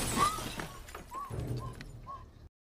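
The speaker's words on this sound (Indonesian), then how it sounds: "Namun kaca kamarnya juga dipecahkan" Bedroom window glass is smashed, giving a sharp, loud shattering crash at the start, then scattered clinks and tinkles of falling shards that fade, ending in silence.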